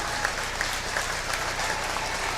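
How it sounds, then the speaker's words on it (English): Pierre crowd giving a standing ovation at a girls' basketball game, steady sustained applause and cheering filling the gym, dense and even throughout with no voices standing out. "Pierre crowd will give him a standing ovation."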